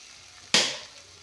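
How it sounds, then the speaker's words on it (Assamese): Paneer frying in a hot pan gives a single sudden loud sizzle that fades away within half a second. "এইখিনি ভালদৰে ভাজি ল'লোঁ"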